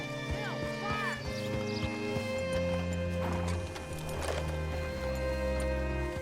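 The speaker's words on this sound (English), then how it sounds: "Hitch your horse up here." Hooves clop steadily as a horse moves at a walk in Red Dead Redemption 2, with tonal game music and faint ambience around them and speech partly overlapping.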